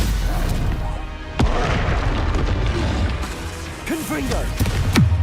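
A spell is cast in the Hogwarts Legacy video game, with a sharp booming magical impact partway through followed by whooshing, sweeping tones over a busy layer of game sound.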